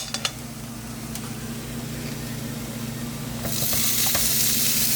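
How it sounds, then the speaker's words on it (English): Steady sizzling of steak in a hot frying pan with a low hum beneath, growing louder and brighter near the end, with a few light clinks early on. "Ooh, sizzle, sizzling. Time for the steak."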